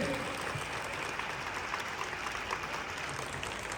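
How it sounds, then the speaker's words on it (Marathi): A large audience applauds at a speech gathering, with dense, steady clapping that holds at an even, fairly soft level throughout and no voices on top. "एकदा जोरदार टाळ्या होत्या."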